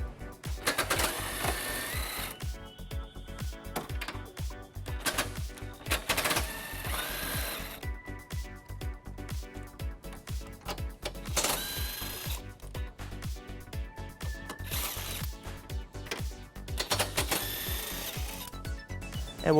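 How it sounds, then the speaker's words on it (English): A socket wrench backs out 18mm bumper beam bolts on a 2015 BMW X5, loud close ratcheting in rapid clicking bursts separated by short pauses. "we're going to remove those using an 18mm socket"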